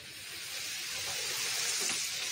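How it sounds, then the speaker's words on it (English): Chicken fries in hot grease with a steady, loud sizzle and hiss that builds slightly and holds close and constant, with no talking over it. "it's a good day to be frying chicken too"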